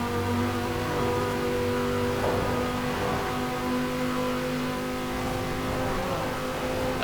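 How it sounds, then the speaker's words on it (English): A 2058 Quadra Turbo-R V-Tech with a V10 engine in Forza Horizon 4 holds a steady high-speed drone, its tonal engine whine sustained and close with slight pitch shifts, no voices. "it's unmistakably a V10 sounding engine"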